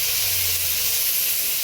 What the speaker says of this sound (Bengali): চিকেনের আলুটা দেখো ভাজতে বসিয়ে দিয়েছি।